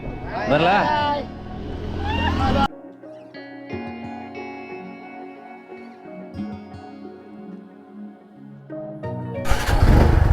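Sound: motorcycle engine starting at start of a road trip ride

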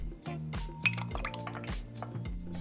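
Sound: dates added into a soup pot

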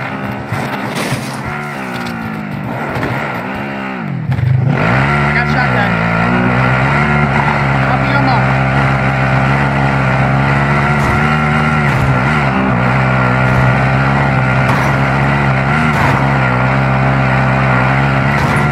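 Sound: vehicle engine while driving in a video game

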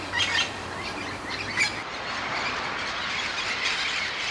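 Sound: festive parrot calling

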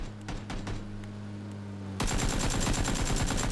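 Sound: gunfire in a video game

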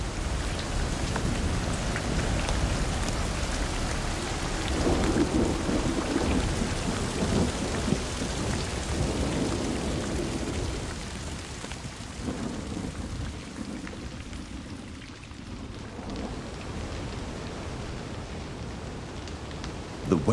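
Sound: rain falling in forest

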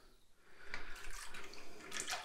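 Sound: cold water running from tap

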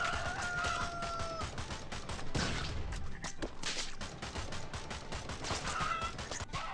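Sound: chicken in video game Swamp Attack 2

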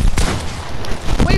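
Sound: sniper hunting rifle shot in a video game

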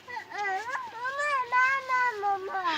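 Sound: cats meowing

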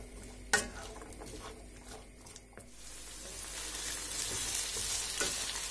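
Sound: carrot and onion frying in a pan

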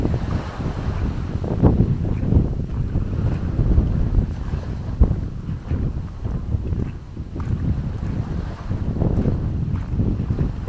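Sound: wind blowing on a boat at sea

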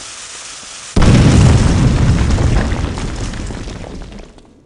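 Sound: explosion in Clive Barker's Undying video game

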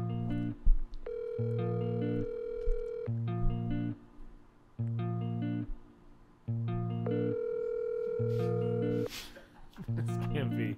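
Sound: Skype call ringing tone

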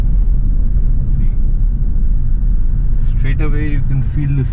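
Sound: Skoda Octavia RS car driving on the road

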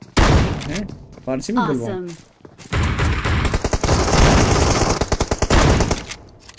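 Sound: shotgun gunfire in video game PUBG Mobile

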